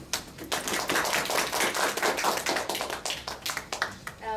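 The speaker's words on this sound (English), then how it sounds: "Please welcome Mr. Nguyen with a big applause." Audience hands applaud at a Tokyo round-table gathering, a smaller crowd producing distinct, crisp individual claps that rise quickly and continue fairly evenly before thinning near the end.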